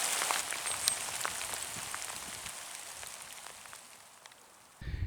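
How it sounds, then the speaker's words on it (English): Steady rain falling outdoors on a wet, muddy field where people are metal detecting, a dense continuous patter with scattered distinct drops, fairly loud and close throughout with no talking. "The rain's getting worse."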